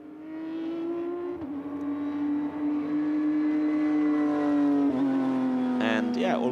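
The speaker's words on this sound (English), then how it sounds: "it's beautiful to hear the sound of these GT3 Cup cars" Porsche GT3 Cup race cars at Dubai Autodrome during qualifying, a loud sustained engine drone with shifting pitch as cars pass and rev, with a sharp change near the end.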